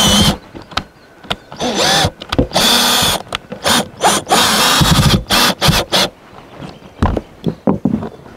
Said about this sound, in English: I'm just going to continue putting screws in